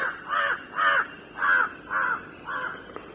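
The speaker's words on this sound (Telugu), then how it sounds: "కాకులు ఎరుతున్నాయి కదా" Crows caw in a steady series of about six harsh calls near palmyra palm trees, moderately close, over a constant high-pitched background hum.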